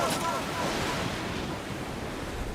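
Stormy ocean waves and gusting wind batter the sailing boat Trashman, a loud, close, continuous rushing roar of surf and wind noise with no pauses.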